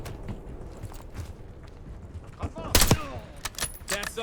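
Gunfire in the Call of Duty: Black Ops 6 campaign near a Scud site, quiet ambient shots and then a louder burst of sharp cracks in the middle, with scattered shots trailing after.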